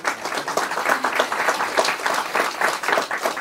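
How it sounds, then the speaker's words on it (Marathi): An audience claps in sustained applause, many hands striking in a dense, slightly pulsing rhythm, fairly loud and close. "कृतज्ञता म्हणून टाळ्या वाजूया"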